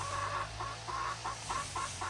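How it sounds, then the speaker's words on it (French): Several wet hens cluck at close range on a farm, short repeated clucks in an uneven rhythm over a steady low background hum. "Les petites poules qui vont bien."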